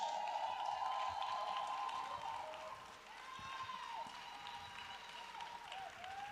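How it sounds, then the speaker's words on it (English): Sustained audience applause at a cultural and creative industries conference session, dense clapping filling the hall at steady loudness with faint scattered voices, a host calling for a round of applause for those coming onstage. "Let's give them a big round of applause."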